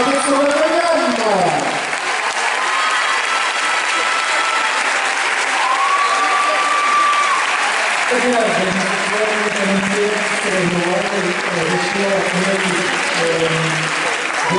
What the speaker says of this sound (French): Nous vous invitons à faire un tonnerre d'applaudissements pour Vanessa Bajara